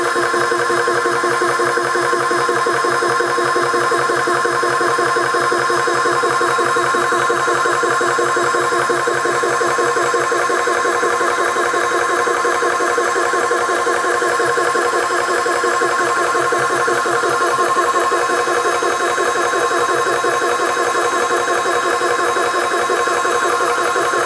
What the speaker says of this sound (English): And now the compressor.